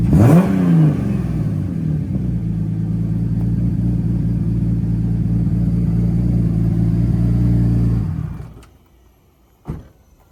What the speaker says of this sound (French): on entend le turbo, écoutez. Sans le chétan. Le turbo qui tourne encore et tout